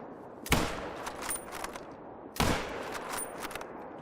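Two sharp rifle shots aimed at a caribou in theHunter: Call of the Wild, spaced about two seconds apart, each a loud crack trailing into a rolling echo over quiet outdoor ambience.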